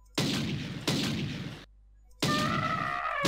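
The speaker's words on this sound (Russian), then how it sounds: "Давай с магнума их шибать." Magnum pistol shots from the PC game System Shock Enhanced Edition: three loud, close blasts, each with a long ringing tail, the first two back to back and the third after a short pause, with a metallic whine underneath.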